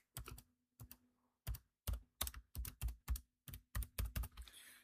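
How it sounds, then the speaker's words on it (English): Keys on a computer keyboard are struck in short separate clusters of crisp clicks, close and alone, while text is entered into a spreadsheet. "So I'm going to just type something, first thing that comes into my head."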